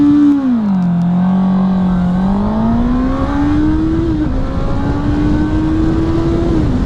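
A 2021 Honda CB650R motorcycle accelerates hard from a standstill up to about 70, its engine note loud and close, dipping briefly between gears then climbing steadily through a long, continuous pull with no talking.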